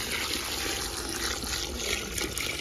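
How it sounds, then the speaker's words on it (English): Water is poured steadily into a batch of homemade compost tea, making a continuous rushing, splashing pour that stays loud and close throughout, with no talking. "I'm adding more water."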